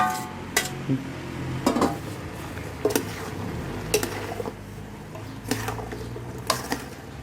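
Rat meat and banana stem are stirred in a metal pan, with a sharp utensil scrape and clank every second or so against a low sizzle, up close and without speech.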